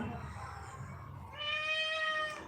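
A cat lets out one long, drawn-out meow, close and clear, after a stretch of low background murmur.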